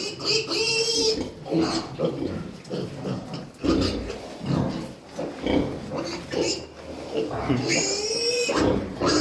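Piglets squeal and grunt in a close, busy chorus as they fight over a sow's teats on a farm, high shrill cries rising and falling throughout while an adult voice talks over them.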